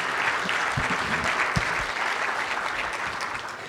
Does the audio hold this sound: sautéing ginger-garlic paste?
no